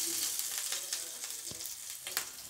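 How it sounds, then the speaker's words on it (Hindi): Chopped green chillies frying lightly in a pan, a continuous close hiss of sizzling oil with small crackles and pops throughout. "हल्का सा इसको भी भून लेंगे"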